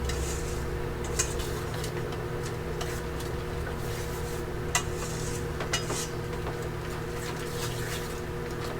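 A whisk works through a thick quiche mixture of eggs and cheese in a bowl, making faint rhythmic clicks and taps against the bowl over a steady hum of background noise, with no voices.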